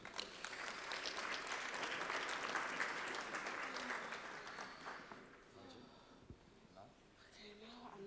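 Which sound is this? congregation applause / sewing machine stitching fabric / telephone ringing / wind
congregation applause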